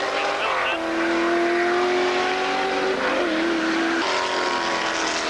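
Steve Cole's TVR race car, number 72, screams past at a race meeting, its engine note rising and shifting through gears, loud and close, with a commentator talking over it.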